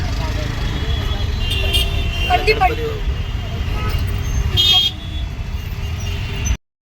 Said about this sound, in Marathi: आज ट्रॅफिक भरपूर आहे मंडळी